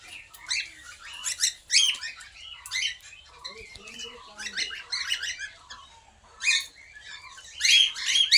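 Pet birds chirp and tweet in quick bright bursts, clustered calls coming and going close by with short quiet gaps between, with no voices.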